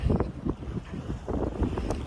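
A boat out on the sea around Thinnakara island in Lakshadweep, with wind buffeting the microphone and a low, steady rumble of water and hull running throughout at close range.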